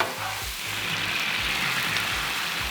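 Thin-sliced beef sizzles on a blazing-hot Blackstone griddle, a loud, steady hiss of frying with faint scraping thumps underneath as the meat is kept moving.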